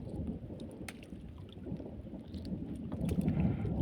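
Low thunder rolls over the sea during traditional handline fishing from a small boat, a continuous deep rumble mixed with wind that swells toward the end.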